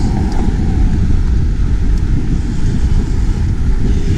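Wind noise buffeting a microphone while cycling on the boulevards of Paris, a loud, steady low rumble that fills the whole clip without a break.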